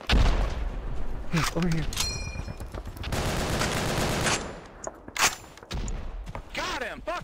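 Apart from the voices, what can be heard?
gunfire in a video game (Resistance & Liberation)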